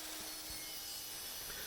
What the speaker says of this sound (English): The board is first cut to a length of 15 9/16 inches.